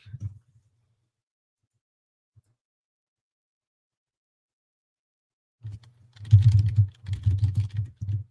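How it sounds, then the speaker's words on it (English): Fast, loud typing on a computer keyboard, arriving as a dense flurry of close keystrokes after a long quiet stretch. "You're going to hear thunder typing for a quick sec."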